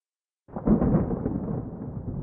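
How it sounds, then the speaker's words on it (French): Thunder from a lightning strike on a garden tree during a storm, a sudden loud boom after silence that rolls on as a sustained low rumble. "L'éclair a frappé l'arbre."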